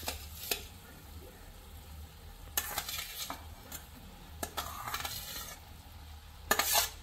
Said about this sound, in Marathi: आता आपण त्याच्यावरती थंड झालेल्या किनवाचा लेयर ऍड करणार आहोत